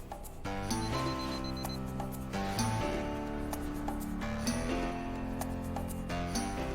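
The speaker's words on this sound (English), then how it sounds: "When the alarm goes off at 7, she jumps on his bed to wake him up for school." An alarm clock rings in a child's bedroom at seven, a repeated electronic beeping pattern sounding steadily and fairly loud for several seconds, alone with no talk.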